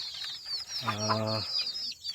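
Young native village chickens (ayam kampung), about one and a half months old, give short close clucks amid faint chirping.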